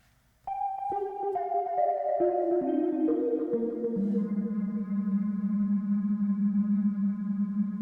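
Sustained Arturia MicroFreak synthesizer notes stepping down in pitch, layered and washed in long reverb tails that blur into a steady, spacious drone.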